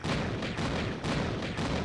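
Enemy gunfire in the 1996 Tomb Raider video game blasts in a dense, loud barrage, with heavy repeated shots pounding almost continuously and no voices.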